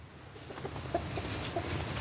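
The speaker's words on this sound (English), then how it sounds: "Chickens are doing very well" Chickens clucking softly at a moderate distance, a few scattered clucks over steady outdoor background noise.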